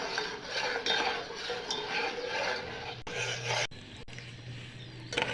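Sugar is stirred in a pan over medium heat as it melts into caramel for a pudding, with continuous scraping and rubbing of a utensil against the pan, a low hum underneath and a few sharp knocks near the end.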